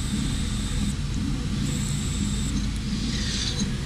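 Steady, quiet hiss from a car air conditioning service valve with its plastic cap removed, a continuous broadband rush with faint high tones above it and no talking.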